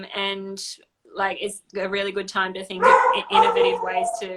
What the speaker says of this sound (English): that's the dog telling me it's time to go for a walk.